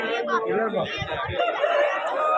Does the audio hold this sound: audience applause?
no